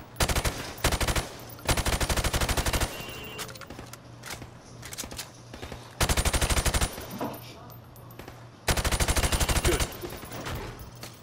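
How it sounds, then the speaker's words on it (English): Automatic gunfire from a rifle in Call of Duty Modern Warfare, shot through plywood at pop-up targets on a range, comes in several loud, rapid bursts separated by short pauses, with quieter single shots and impacts between the bursts. "I want you to shoot the targets through the wood."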